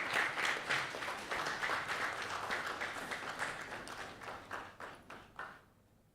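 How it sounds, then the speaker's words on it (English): Audience applause welcoming a speaker to the stage at a bank-sponsored business breakfast meeting in Ghana: sustained, fairly distant clapping from a crowd that thins and fades out toward the end. "Let's welcome Adoma Pepra with a round of applause."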